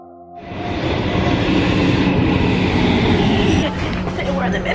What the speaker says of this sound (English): It's the metro.